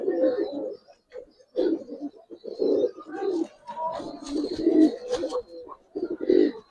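Giribaz pigeons coo in close, repeated throaty bursts with short pauses between calls, loud and near in a loft setting.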